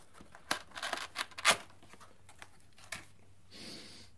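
Cardboard packaging for a keyboard is pulled open like a pizza box, a quiet series of close tearing and scraping rustles with a few sharper flap snaps, followed by a softer hiss of sliding cardboard.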